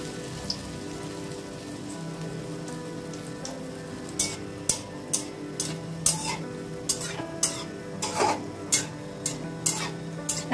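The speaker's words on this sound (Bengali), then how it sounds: "একটা একটা করে ভাজবো।" Banana pua pitha batter fries in white oil, ladled in one at a time, with a faint steady sizzle that turns into a run of a dozen or so crisp spattering ticks and pops partway through.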